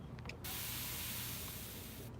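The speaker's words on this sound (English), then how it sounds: "You can actually hold this one down and it keeps spraying." A continuous-mist spray bottle sprays in one steady, loud hiss that lasts about two seconds after a few short spritz clicks at the start.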